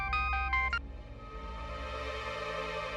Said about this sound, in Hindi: तो गुड्डू का फोन